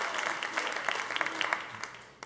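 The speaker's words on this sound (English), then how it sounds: "You should clap for me." A church congregation applauds, a dense, sustained patter of many hands clapping at moderate volume, with scattered sharper claps standing out and the applause fading at the end.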